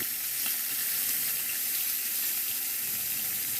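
Pork ribs fry in oil in a pan with a steady, loud, even hiss and crackle that fills the whole moment without a break, with no voices.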